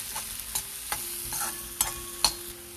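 A spoon stirring idli gunpowder masala in a hot frying pan, with several scraping strokes against the pan over a faint steady sizzle and no voices.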